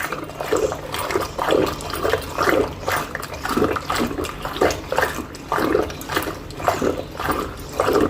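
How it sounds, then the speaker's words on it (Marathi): Spiced buttermilk being churned by hand in a pot, a rhythmic sloshing and swishing of liquid repeating steadily throughout, close and fairly loud, with no voices. "आता हे पुन्हा घुसळून घ्यायचं आहे चांगलं असं"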